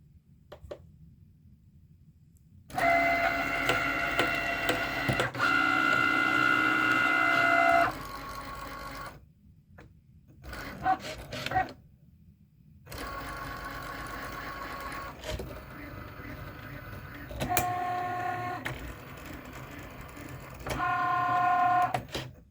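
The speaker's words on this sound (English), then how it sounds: "now I'm going to load this vellum on the mat into the cricut, and I will press go." A Cricut cutting machine slices vellum on its mat, its motors whirring and buzzing in steady bursts with brief pauses as the carriage moves back and forth, close and fairly loud with no talking.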